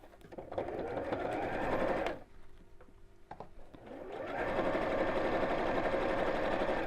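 A sewing machine stitches a seam close to the fabric edge of a fold-away tote bag, running in two steady, close bursts of motor whir split by a short quieter pause.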